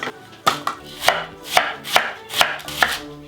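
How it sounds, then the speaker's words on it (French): Knife chopping red onion on a cutting board in a home kitchen, about seven sharp, fairly loud cuts at an uneven pace, heard alone without speech. "et on coupe les oignons de l'intérieur, comme ça."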